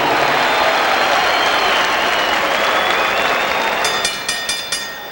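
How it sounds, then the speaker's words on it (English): A boxing arena crowd in Georgia applauds loudly in a dense, continuous roar of clapping that fades near the end into a few distinct rhythmic claps. "a round of applause and a wish for speedy recovery"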